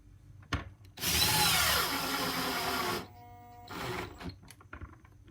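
A power drill drives stainless steel #6 by 3/4 screws into an epoxy mold form, one loud two-second burst of whirring followed by a shorter, quieter run, with quiet handling clicks between.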